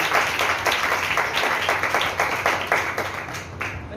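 Strong, steady applause from an audience gathered for a talk. The crowded, continuous clapping sounds close and full and fades slightly at the end.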